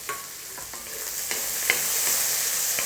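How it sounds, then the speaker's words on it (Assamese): Onion, garlic and ginger paste, and green chillies sizzle in hot oil while being stirred, a steady close hiss broken by light scraping clicks of the spoon against the pan. "পিঁয়াজখিনি এইদৰে অকণমান লৰাই দিব। লগে লগে মই ৰচুন আৰু আদা বটা পিচি থোৱা আৰু জলকীয়া গোটেইখিনি মই লগতে দি দিছোঁ।"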